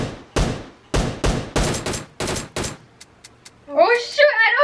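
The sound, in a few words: gunfire in the video game PUBG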